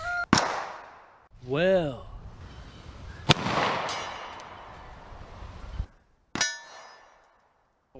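Three pistol shots crack at steel target plates 100 yards away, spaced a few seconds apart. Each loud report is followed by a faint ring of the plate, and someone talks between shots.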